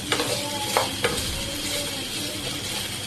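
Sliced okra frying in a pan over a low to medium gas flame, a steady sizzle with a few sharp stirring clatters near the start, no voices.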